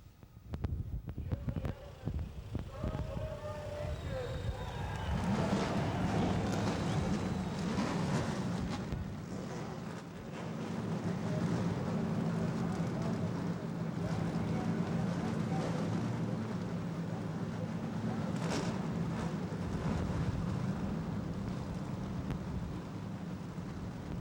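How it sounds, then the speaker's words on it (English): The V6 stock car field of a 1991 NASCAR race, mostly Oldsmobiles, starts up on pit road at Volusia County Speedway in Barberville, Florida. After a few seconds of scattered noise, a dense, rumbling engine roar swells and holds steady. "V6 engines have come to life on pit road here in Barberville, Florida"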